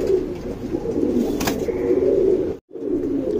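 Pigeons coo in low, rolling repeated calls, close and fairly loud, with soft overlapping cooing throughout and a brief silence near the end.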